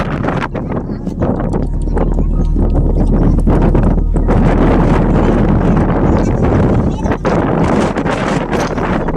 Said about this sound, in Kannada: ಅಷ್ಟೊಂದು ವಾಯ್ಸ್ ಇದೆ, ಅಷ್ಟೊಂದು ಗಾಳಿ ಇದೆ ನೋಡಿ